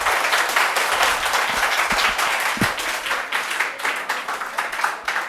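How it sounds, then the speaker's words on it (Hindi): Audience applause at a ceremony honouring students selected for JET and CUET (ICAR, BHU) admission, a dense steady clapping from many hands that holds throughout with no one speaking. "देखो तालियां"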